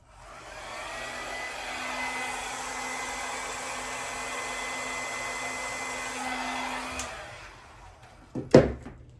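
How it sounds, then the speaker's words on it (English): A handheld hair dryer blows at a steady, even whir for about seven seconds during an art session, then cuts off, followed by a few close knocks and handling sounds. "I'm going to do that with the hair dryer."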